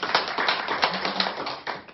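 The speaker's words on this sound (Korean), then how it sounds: "우리 박수 한번 쳐줍시다." A church congregation at a Sunday service claps briefly, a quick run of close, sharp hand claps in uneven rhythm lasting only a couple of seconds.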